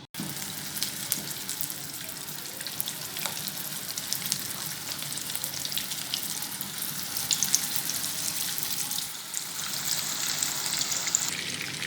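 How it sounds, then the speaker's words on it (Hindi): Raw minced-meat Turkish kofta kebabs fry in hot oil in a pan, giving a loud, steady, crackling sizzle that runs unbroken for the whole stretch with no talking. "तो अब अपने कबाबों को फ्राई कर लेती हूँ।"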